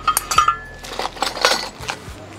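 Kitchen utensils and pots, including a curry ladle and lids, clinking and clattering as they are handled during an unboxing: several sharp metallic knocks and rattles in irregular bursts, close and fairly loud.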